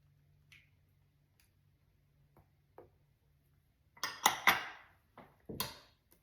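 A spatula scrapes sour cream out of a container in a quiet kitchen: faint clicks at first, then a few short, close, wet scraping bursts near the end.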